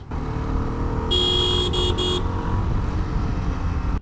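A CF Moto SR 300 motorcycle at high speed on the road makes a continuous engine roar under heavy wind rush, with a brief high buzzing tone partway through. No one speaks.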